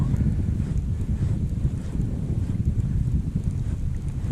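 Chilly, below-freezing wind buffets the microphone on a lake during a bass fishing trip, a steady loud low rumble with gusty fluctuations and no talking.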